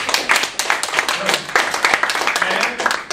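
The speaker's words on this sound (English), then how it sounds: "applause for everyone." A public speaking class applauds everyone, a few people clapping in loose, uneven bursts close by, with a little background chatter.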